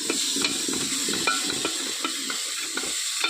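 Spices fry and sizzle in a pan in a village kitchen, with a steady hiss broken by several sharp stirring scrapes, close and alone.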